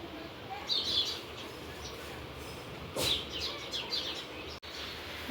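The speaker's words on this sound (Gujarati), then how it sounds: "મસ્ત મજાના ચકલા બોલે છે ગુડ મોર્નિંગ બધાને।" Sparrows chirping outdoors in the morning, bright brief twitters in a couple of bursts over quiet background hiss, moderately distant with a soft click near the end.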